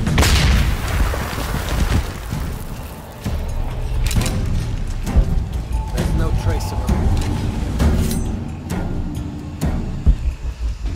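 Gunfire rings out in Shadow of the Tomb Raider during a firefight, with repeated sharp shots and heavy booms scattered irregularly across the scene, mixed under shouted voices and combat noise.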